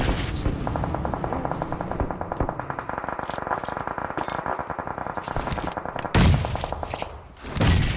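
Gunfire in a shooting video game match, loud rapid automatic bursts hammering on for several seconds, then a couple of sharp single blasts near the end.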